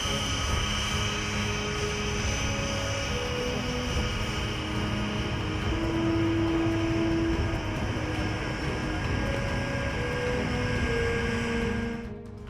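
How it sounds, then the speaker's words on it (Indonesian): A C-17 Globemaster III military cargo plane lands directly on snow at an Antarctic airfield, its engines producing a steady, loud, broadband roar with a sustained whine that holds for the whole stretch before cutting off abruptly. "pesawat mendarat langsung di atas salju"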